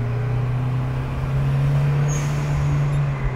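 Nissan 200SX S13 turbo engine held steady at about 3000 rpm, a loud continuous drone with a strong low hum and no speech over it.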